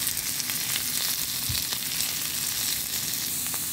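Ginger paste and salt sizzle in a hot pan, a steady, dense hiss throughout with a brief stirring knock midway, close and without talk.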